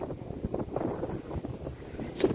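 Outdoor wind buffets the microphone in uneven low gusts and rumbles across the short stretch, with one stronger puff near the end.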